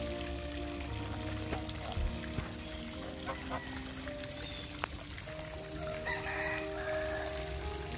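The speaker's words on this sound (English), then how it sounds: "the peacocks and the roosters, they're starting to crow and howl." Roosters and peacocks crowing amid a busy aviary, with clucks, goose and other fowl calls layered over steady outdoor background noise.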